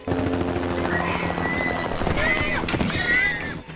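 A helicopter drones steadily overhead while wild mustangs whinny and hooves clatter below during a roundup, with a voice speaking over the noise.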